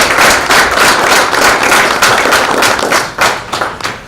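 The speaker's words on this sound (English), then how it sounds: "So please join me in giving them a round of applause." Loud, close applause from the audience at a board of education meeting, a dense burst of clapping that holds steady for several seconds before thinning out toward the end.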